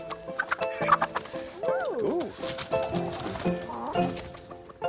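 Chickens cluck and chatter close by in a busy, overlapping stream of short calls, with a few rising, squawk-like notes in the middle.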